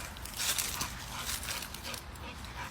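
A dog whimpers and whines outdoors near a lake, a faint high-pitched thin cry over steady background noise and wind, fairly distant, with no clear talk.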